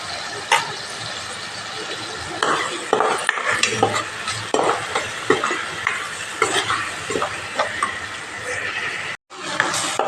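Masala of ginger garlic paste, cashews and turmeric frying in a pan for paneer curry, a close continuous sizzle with frequent stirring scrapes and clinks throughout, no talk.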